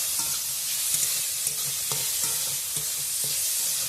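Salt, turmeric, garlic paste and ginger paste stirred and fried in a pan, a constant close sizzle with repeated rhythmic clinks and scrapes of a spatula against the pan.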